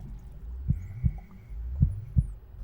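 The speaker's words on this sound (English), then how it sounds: "your heartbeat is a dead giveaway." A heartbeat heard up close in a quiet room, two distinct double thumps evenly spaced, low and throbbing over a faint hum.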